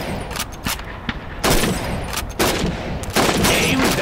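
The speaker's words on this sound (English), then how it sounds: "Shoot those bottles and plates." Rifle shots crack out at a shooting range in Call of Duty 2 basic training, where bottles and plates serve as targets; a rapid series of loud, close reports with a few heavier blasts comes at an uneven pace.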